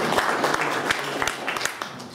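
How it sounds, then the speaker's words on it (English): Audience applause at a magic lecture, a short burst of scattered claps from a modest room crowd, fairly steady with a few sharper individual claps standing out. "Please give him a round of applause."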